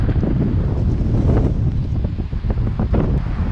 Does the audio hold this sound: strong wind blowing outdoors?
yes